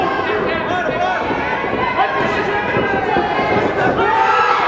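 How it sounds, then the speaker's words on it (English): A boxing crowd roars continuously at an international invitational bout between Robby Gonzales and Wanderley Pereira, a dense, loud wash of shouting and cheering that swells slightly toward the end, with voices mixed in. "As you hear the crowd getting louder."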